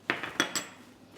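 A spoon stirs cocoa into butter in a bowl, giving four close, sharp clinks and scrapes against the bowl at a steady pace, with nothing else around.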